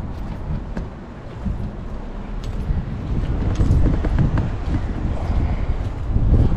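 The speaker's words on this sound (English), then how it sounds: "It's a tad bit windy, but nothing like yesterday." Steady wind rumbling and buffeting against the microphone, a low broadband roar that swells slightly louder toward the end, with no talking.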